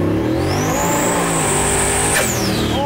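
A 650HP LS-powered Chevy Camaro monster truck with a 3-speed turbo 400 transmission revs hard, its loud, continuous engine roar climbing in pitch, holding, then dropping off, with no talk over it.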